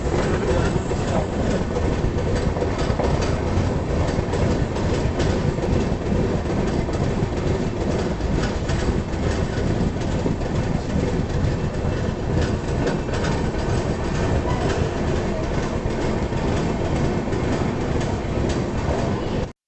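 Andhra Pradesh Express rolling along the rails toward Duvvada station, a loud continuous rumble with rhythmic clatter of wheels over track joints, heard from inside the train throughout.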